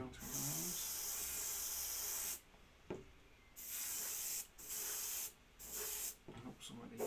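Close airbrush hiss sprays paint onto a miniature's arms in four or five sharp bursts of a second or so each, with short gaps between.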